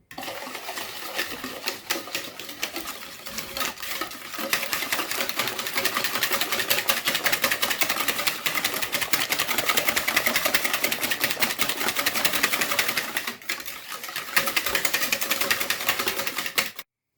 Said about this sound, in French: on va travailler l'ensemble, histoire de bien mélanger et un peu blanchir l'ensemble